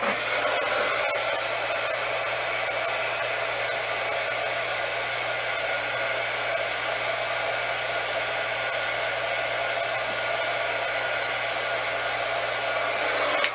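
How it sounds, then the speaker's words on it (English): A heat tool blows steadily over glittered ornaments, clearing off loose glitter and drying the gesso. The loud, even airflow roar runs unbroken throughout with no talking. "So not only does that help blow off some of the excess glitter, but it helps starts to dry up your gesso."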